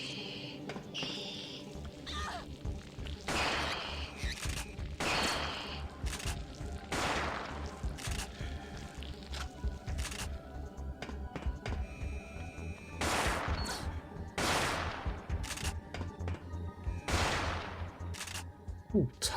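Turrets firing in the PS1 game Parasite Eve 2, a series of spaced bursts of rapid gunfire recurring every second or two over a low droning game backdrop, with someone talking quietly in between.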